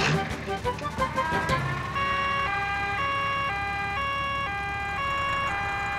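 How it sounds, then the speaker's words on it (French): A two-tone ambulance siren in a French-language Peppa Pig cartoon wails steadily, alternating pitch in a regular pattern, fairly loud and near after a brief mix of other sounds. "il faut vite appeler une ambulance"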